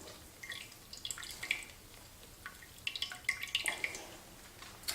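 Homemade almond milk dripping and trickling as the soaked almond pulp is squeezed hard and strained, a run of faint, irregular drips and small splashes close by, with no voice.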